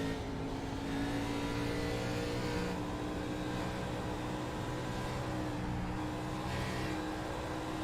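Race car engine throttling up at Auto Club Speedway in an Xfinity Series racing video game, a steady droning engine note that holds at a constant level throughout with no talk.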